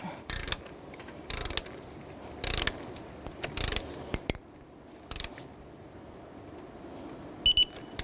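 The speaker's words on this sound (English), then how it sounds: "Set up a 1/4 inch swivel on the side so I can get in there and really torque that." Ratchet with a 1/4 inch swivel torquing an exhaust manifold bolt on a 2006-2012 Toyota RAV4, heard as several short bursts of rapid clicking spaced by quiet gaps, close and fairly faint, with no talking.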